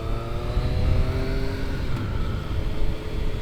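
A motorcycle engine droning steadily while riding, a loud sustained hum with shifting harmonic tones and slight changes in pitch as the bike strains.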